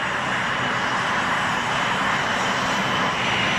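An A-10 Thunderbolt II attack aircraft roaring with a steady, loud, unbroken jet engine rush that fills the whole moment, with no voices.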